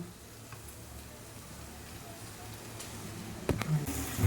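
Amaranth (thotakura) leaves hit a hot pan of turmeric-spiced oil, giving a steady low sizzle throughout with a sharper crackle and clatter near the end.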